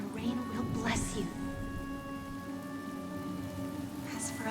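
Rain falling in the video game Honkai Star Rail makes a steady, moderate hiss that runs throughout, under sustained music tones and a voice speaking.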